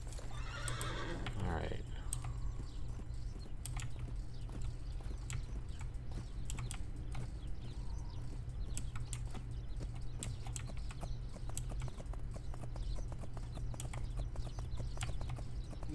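A horse whinnies near the start in the game My Little Riding Champion, then hooves clip-clop steadily at a trot over a low droning background, with brief talk.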